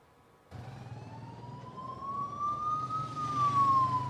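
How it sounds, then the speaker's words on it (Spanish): An ambulance siren wails steadily as the vehicle arrives at a prison detention centre at night, the tone slowly rising then dipping, loud and close over a low engine rumble, with no voices. "Eran las 10 de la noche y 27 minutos cuando la ambulancia que traía a Daniel Salcedo a su destino, la cárcel del Inca, llegaba al centro de detención."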